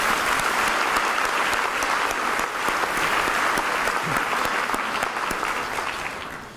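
Rows of attendees at a school district's State of the District event clap in thick, continuous applause for students' college decisions, steady and loud before easing off in the last moments.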